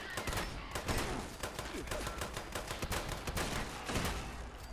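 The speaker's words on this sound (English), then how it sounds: "Please stop shooting me." Robots in the Fallout 76 game fire on the player in loud, rapid, continuous bursts of overlapping gunshots that fill the whole stretch.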